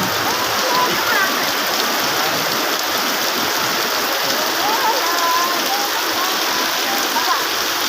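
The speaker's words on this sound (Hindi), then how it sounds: "बहुत तेज बारिश हो रही है।" Heavy rain pours steadily in a dense, even hiss, with faint voices talking underneath.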